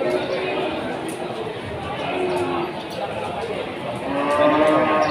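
Jumbo cattle moo repeatedly at the Wirasari livestock market, a few calls at mid distance over steady crowd chatter and market bustle.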